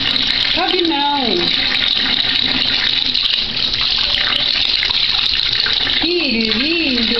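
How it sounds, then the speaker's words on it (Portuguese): Tap water gushing steadily from a faucet as an animal bathes beneath it, a continuous splashing rush while a voice talks over it in bursts. "Tomando banho de torneira."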